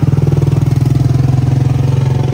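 A loud, steady engine idling close by, with a rapid regular pulsing throb and no voices.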